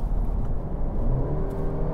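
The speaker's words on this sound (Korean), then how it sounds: "지금 시속 90km에서 8단 기어 물고 있는데 이 상태에서 순간적으로 가속력을 끌어내보면" A Mercedes-Benz C-Class in eighth gear at 90 km/h kicks down under full throttle, and a deep engine drone swells from inside the cabin for a couple of seconds.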